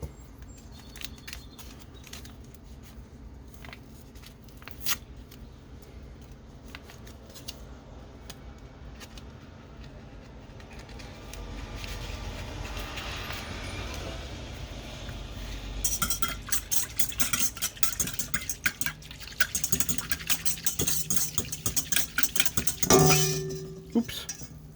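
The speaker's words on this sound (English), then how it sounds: "we're going to add the warm milk. And we're going to mix in the yeast" Warm milk being poured and yeast stirred in for cinnamon roll dough: quiet liquid sounds, then louder clinks and scraping of a utensil against a bowl, with a sharp clatter near the end.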